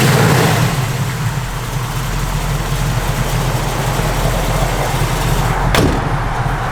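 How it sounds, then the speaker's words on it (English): A 1968 Chevrolet Camaro SS V8 idling with a choppy cam lope, a low, loud, steady rumble with rhythmic pulsing heard up close, plus one brief sharp click or thud near the end. "Yeah, nice little cam."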